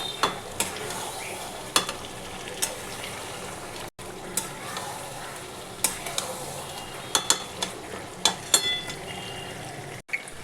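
Mutton and papaya korma stir-fried in a pan, with a steady sizzle broken by repeated scraping clicks from the spatula at an uneven rhythm, close and moderately loud.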